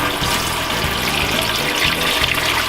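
Water runs steadily from the shower in a rented Sun Living Flexo SP motorhome, a constant close hiss with no break and no voices.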